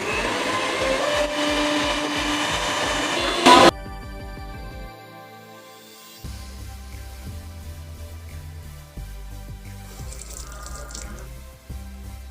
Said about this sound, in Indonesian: Di sini saya menggunakan mixer untuk mempercepat prosesnya.